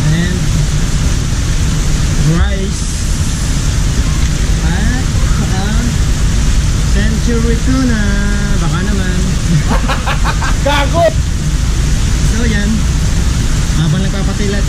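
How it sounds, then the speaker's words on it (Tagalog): Heavy rain falls on Mount Arayat, on the Magalang side in Pampanga, as a steady, loud broadband hiss that runs through the whole stretch while people talk over it. "tingnan nyo kung gaano kalakas ang ulan"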